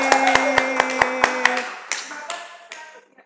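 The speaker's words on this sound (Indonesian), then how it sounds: "Tepuk tangan buat tim Rosvi." A small group applauds a team at an Indonesian talk session with a quick, steady run of close handclaps that breaks into a few scattered, fading claps, with no talking.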